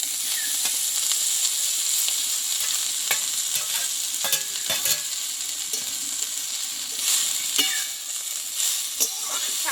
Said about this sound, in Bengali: শাকটা দিয়ে আমি একটু কষে নেব তেলটা দিয়ে এই শাকটা দেওয়ার পরে আমি হালকা করে তেলে কষে নেব